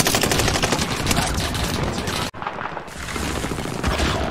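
Gunfire in a first-person shooter video game, a dense run of rapid shots and booms that is briefly cut off midway and then resumes, loud and close throughout.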